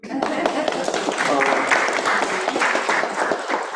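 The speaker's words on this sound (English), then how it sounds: "You can clap for Toya if you want." An audience applauds steadily throughout, a dense wash of clapping from many hands with voices mixed in.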